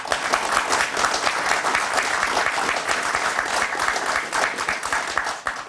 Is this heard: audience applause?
yes